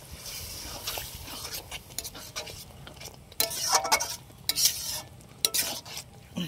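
Spiced masala paste in a pot for a desi red chicken curry, with water just added, gives a bubbling simmer broken by scrapes and clinks of stirring, brief louder bursts and a few soft voice sounds.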